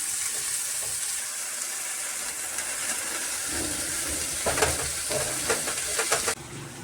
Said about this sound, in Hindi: बस इस तरीके से मैं भूनती हूँ सब्जी।